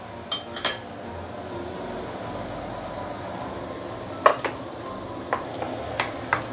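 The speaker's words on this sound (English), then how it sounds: "Let's saute the chili paste for a while in order to really get the reddish color, especially on the oil" Chili paste sautés in oil with a steady, soft sizzle throughout, punctuated by occasional sharp clinks of a spoon against the pan.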